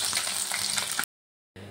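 Pabda fish frying in hot oil, a dense steady sizzle with popping spatters, close and loud, cut off briefly before the sizzle returns.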